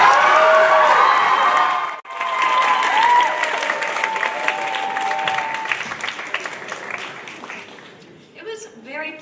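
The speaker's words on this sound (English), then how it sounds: "A round of applause for our seniors." Seniors of the class of 2025 get a sustained round of applause and cheering from a crowd at a campus graduation walk, briefly dipping near the start, then continuing steadily and tapering off, with voices calling out over it.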